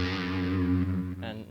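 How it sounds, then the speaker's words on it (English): An electric guitar played through an ART SGX 2000 effects processor preset with the distortion off rings out in sustained chorus-washed notes, moderately loud, then a brief new pluck near the end. "we are in business without the distortion, just the effects from the preset you have selected"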